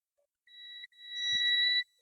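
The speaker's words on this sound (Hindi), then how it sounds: "ये वाला मॉसफेट भी आपको बीप दे रहा है।" A multimeter in continuity mode beeps while its probes test a MOSFET on a Dell laptop motherboard, giving two clear steady tones, one short and one longer with a tiny gap between them, loud and close in an otherwise quiet room.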